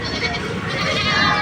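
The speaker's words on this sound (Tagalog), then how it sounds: "Ayan mga katambayan yung kambing ni Sir." Goats bleat amid the noise of a busy livestock market in Padre Garcia, Batangas, with loud wavering cries over steady background chatter.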